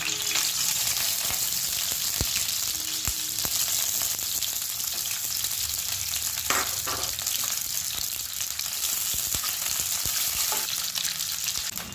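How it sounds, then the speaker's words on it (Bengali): Eggs fry in hot oil in a kadai, giving a continuous, dense sizzle and crackle at an even level, with occasional faint clicks from a utensil. "তেল গরম হয়ে গেছে, এবার আমি ডিমগুলো একে একে কড়ার মধ্যে ছেড়ে দিলাম"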